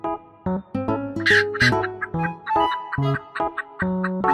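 A chicken gives a couple of brief clucking calls close together near the start, heard over gentle background music that continues throughout.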